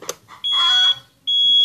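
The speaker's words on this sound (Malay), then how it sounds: "Buzzer yang bunyi." A KT03 two-sensor touch motorcycle alarm buzzer gives two loud, steady high-pitched tones: one about half a second long, then a second that starts after a short gap and runs to the end. There is faint clicking before the first tone.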